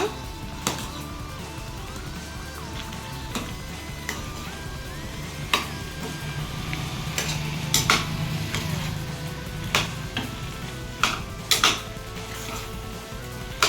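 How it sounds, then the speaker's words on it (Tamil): Chicken with chilli powder and chicken masala being mixed in a cooker pot, with repeated clanks and scrapes of a metal spoon against the pot over a light sizzle, close and without talk. "இது எல்லாத்தையும் சிக்கனோட போட்டு நல்லா கலந்து விட்டுக்கோங்க"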